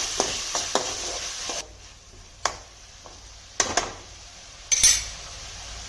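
Onion, capsicum and tomato fry in a pan for an avarekalu curry, a soft sizzle broken by sharp clinks and scrapes of a spoon against metal, with no talking.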